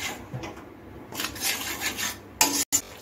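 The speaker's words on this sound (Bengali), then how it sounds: "এখন আমি ভালো করে নেড়ে চেড়ে টমেটো পেস্টটা যতক্ষণ না কাঁচা গন্ধ কেটে যাচ্ছে ততক্ষণ আমি কষিয়ে নিচ্ছি" Tomato paste is stirred and sautéed in a pan over a medium gas flame while making tangra fish tel jhaal. Rubbing, scraping spatula strokes come in uneven bursts, with a sharper clatter near the end and no voices.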